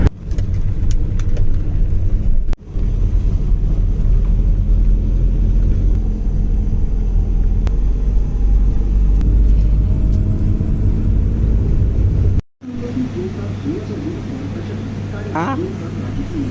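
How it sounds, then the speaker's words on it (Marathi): A newly bought car rolls over a rough, potholed road with a steady low engine and road rumble and occasional jolts, while people inside talk over it. "गाडी चालव हो थोडीशी पण गड्ड्यात बसल्यासारखं वाटतंय"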